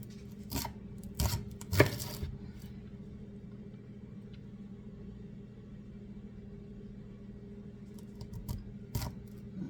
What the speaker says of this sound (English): Alright, now if I cut this, I'm going to have to make these to lay down